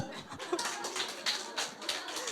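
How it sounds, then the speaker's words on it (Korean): A lecture audience at a health seminar claps along in steady, fairly even beats, the rhythm close and moderately loud with faint murmuring underneath. "박수 한번 쳐주세요."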